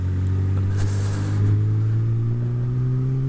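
A motorcycle cruises along a cold, wintry B road. Its engine drones steadily and slowly rises in pitch, with constant rumble and wind noise close by.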